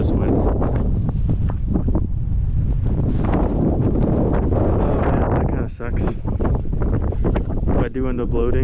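Strong wind buffets a microphone outdoors along a desert offroad route near Monument Valley, a loud continuous rumbling roar with gusty surges throughout, and a voice speaks faintly beneath it.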